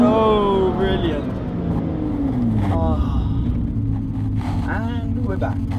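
Lotus Exige Sport 380 in race mode, its engine droning loud and close with rising and falling revs as it accelerates, while a voice talks over the noise.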